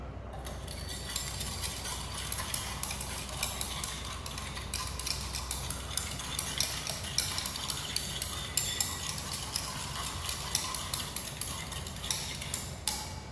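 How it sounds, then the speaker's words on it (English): A water, salt and sand mixture is stirred in a container, giving faint, steady gritty scraping and light clinks, quiet and continuous throughout, with no voices. "Give it a good stir."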